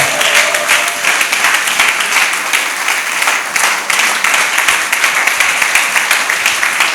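A church congregation applauds steadily to praise the Lord, a loud and dense wash of many hands clapping together that carries evenly from start to finish.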